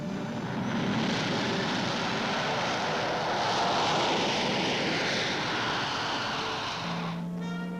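Military aircraft of the Strategic and Tactical Air Command, with a steady, loud, unbroken engine roar that fills the whole stretch and shifts only slightly in tone near the end.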